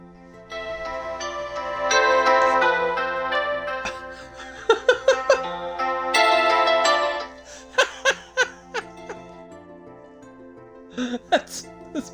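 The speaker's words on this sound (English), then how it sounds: "That's my alarm to take my pills." A phone alarm plays a song as a ringtone, a melodic tune rising and falling across several bursts, with brief pauses and plucked-sounding notes between louder stretches, heard fairly close in a quiet room.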